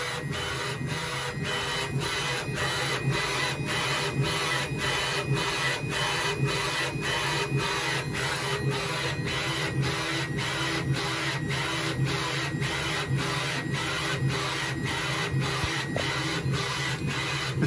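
A 3D printer's Beacon3D probe sweeps back and forth scanning a dense bed mesh, giving a loud, continuous rasping whir with evenly spaced rhythmic pulses throughout and no voices.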